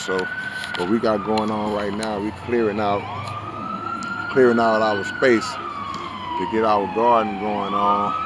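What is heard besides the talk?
police sirens passing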